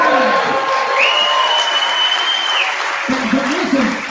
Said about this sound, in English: Did he get a round of applause?